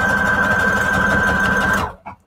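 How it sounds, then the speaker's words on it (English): Sewing machine running loud and close with a steady whirring drone and mechanical chatter, then stopping abruptly near the end, followed by a couple of faint clicks. "Daisy, if your sewing machine is lulling Bonnie to sleep, then maybe you should do sewing as ASMR."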